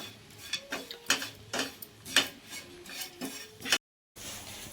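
Jaggery and grated coconut being stirred and fried in a pan for kudumulu, with a spoon scraping and clinking against the metal in quick irregular taps, fairly close and soft, followed by a brief silence.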